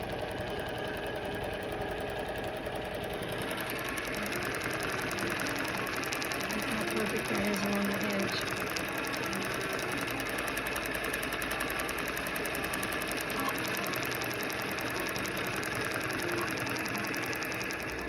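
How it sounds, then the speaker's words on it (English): An Intelliquilter computerized quilting machine hums steadily while stitching out a row across a quilt, a continuous mechanical whir with fine rapid needle chatter lasting the whole stretch. "Now I would move the machine to the beginning of this row. We're going to stitch this out"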